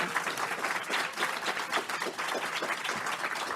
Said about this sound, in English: please over to Ruth and give her an applause